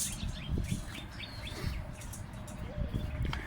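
Small chirps from a female house sparrow held in a trap, short high calls scattered through steady low rumbling handling noise, close and moderately loud.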